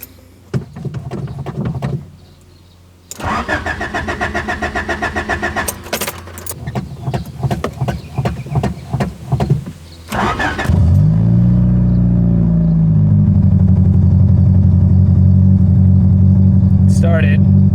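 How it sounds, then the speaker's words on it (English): A Honda Prelude with a damaged transmission cranks with clicking and jangling, then its engine catches and settles into a loud, steady idle with a faint rev swell. "Okay, let's try and start the car."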